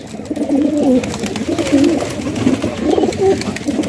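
Fancy pigeons coo steadily and close by on a rooftop, soft rolling calls repeating over a continuous background murmur.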